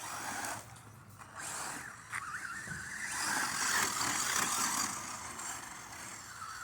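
Losi 22S rear-wheel-drive short course RC truck on a stock 23-tooth pinion speeding past, its electric motor whining up to a high, buzzy pitch and holding it, moderately loud with no talk.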